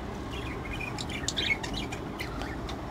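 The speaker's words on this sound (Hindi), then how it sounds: "ये मेल को देखिए, मादी को मटकी में बुला रहा है।" Male budgerigar calling to a female to draw her into a clay nest pot, giving soft chirps and brief squawky tweets against a steady background hiss, with no talking.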